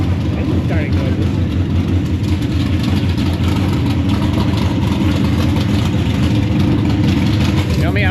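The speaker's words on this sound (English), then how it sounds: "You know me, I'm attracted to the sound of an engine starting." A loud NHRA drag racing engine rumbles with heavy low-end roar, steady and close for the whole stretch, with voices talking underneath.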